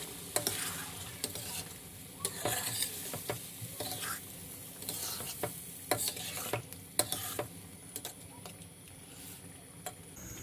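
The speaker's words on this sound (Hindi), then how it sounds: "अब हम इसमें 1 पाव के करीब दही ऐड करेंगे।" Chicken karahi stirred in a pan after yogurt is added, with steady sizzling and repeated sharp spoon scrapes and clicks against the pan, fairly quiet and close, with no voices.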